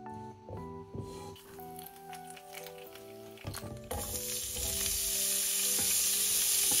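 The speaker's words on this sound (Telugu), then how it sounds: "ఇప్పుడు డ్రై చేసుకున్న కాకరకాయ ముక్కలన్నీ వేసి మీడియం ఫ్లేమ్లోనే వేయించుకోండి" Bitter gourd pieces drop into hot oil with cumin in a pan over medium flame, building into a steady, loud sizzle that fills the last few seconds, with no talking.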